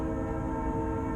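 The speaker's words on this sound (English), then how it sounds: "excuse the train" Passing train sounds a steady, loud horn blast over the rumble of rail cars, sustained and unbroken for the whole moment, heard outdoors near a wood-fired stove being tested.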